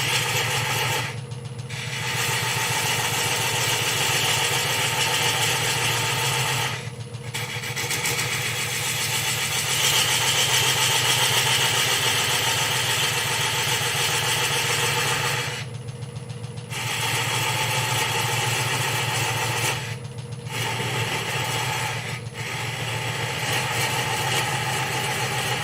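A wood lathe spins slowly at about 400 RPM while overlapping cuts are made, giving a steady, close mechanical hum broken by a few brief dips, with no talking.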